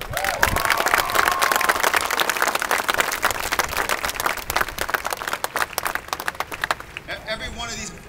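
Crowd applause at a Marine Corps Recruit Depot San Diego ceremony, loud and continuous dense clapping with some cheering, sustained for several seconds before thinning out near the end.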